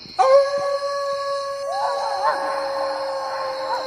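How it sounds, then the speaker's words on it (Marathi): Dogs howl in long, sustained wavering tones that rise and hold over a faint background, fairly close and clear, with no talking. "असा रडणाऱ्या कुत्र्यांचा आवाज"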